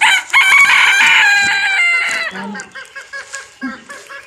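A chicken crows loudly and close by in a long, strained call, then breaks into a series of short, rhythmic clucks that fade slightly toward the end, with no talking.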